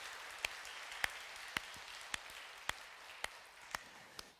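A church congregation clapping during a Sunday Easter service: faint, distant applause with sharp, evenly spaced claps about every half second over a soft wash.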